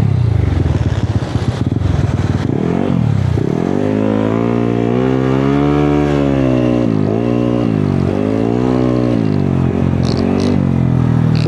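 Motorcycle engine warming up on a rainy day, a close idle chug that rises into several rolling revs and drops back between them, loud and steady with no talking.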